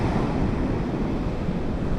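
Waves wash against the shore at high tide, a continuous rough rushing roar close to the microphone, with wind buffeting mixed in and no voices.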